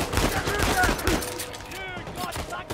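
Rapid gunfire in the video game Uncharted 4, a dense burst of shots in the first half that thins into scattered reports and ricochets, with a player talking over the action.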